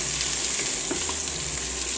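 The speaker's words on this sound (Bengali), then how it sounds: "এই যে এখানে তেল গরম হয়ে গেছে, তারপর রসুন ছেঁচান করা আছে, আর এই যে কাঁচা মরিচ দিয়ে দিলাম তেলে" Crushed garlic and green chilies fry in hot oil with a loud, steady, close-up hiss and crackle that holds unbroken throughout, with no voices.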